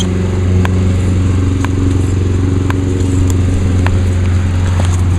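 A lawn mower engine idles in a steady, close, low putter, with faint clicks and clatter ticking over the running motor and no pause throughout.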